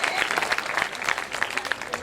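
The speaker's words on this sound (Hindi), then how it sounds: "एक बार जोरदार तालियां आप उनके सम्मान में बजा लीजिए।" Applause from a crowd at a 2014 Hindi poetry gathering in Khariar Road, clapping in honour of a police superintendent, with scattered sharp claps over a moderate crowd murmur and some voices mixed in.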